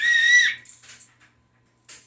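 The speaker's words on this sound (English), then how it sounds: "It has a whistle on it." A whistle built into a survival kit is blown with one loud, shrill, steady blast for about half a second, followed by faint breathy traces and a short second burst near the end.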